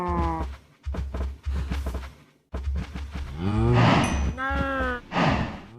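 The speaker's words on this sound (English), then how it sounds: "All right, let's go feed these cows." Cows moo repeatedly in a farming video game, several long lowing calls close together and fairly loud, with no talking during the calls.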